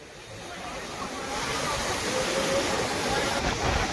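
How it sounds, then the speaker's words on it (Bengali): Big ocean waves crashing, a steady broad roar of surf that swells slightly louder partway through and holds, close and continuous with no voices. "বিশাল বড় বড় ঢেউ"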